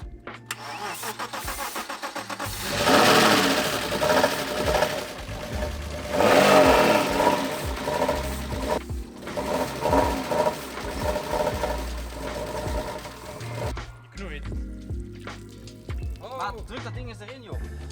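A 2-liter BMW car engine cranks and catches after a couple of seconds, then revs up and down in loud bursts before settling to idle, with people talking throughout.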